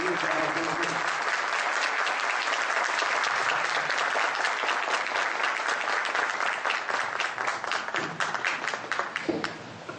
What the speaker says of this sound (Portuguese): darmos uma salva de palmas para o ministro Jorge Aires